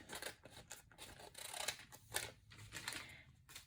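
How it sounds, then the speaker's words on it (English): Scissors snipping through the bottom of a paper bag, a quick series of crisp separate cuts close up, irregular in rhythm and fairly quiet, with no talking. "all you need to do is cut off the bottom of the paper bag"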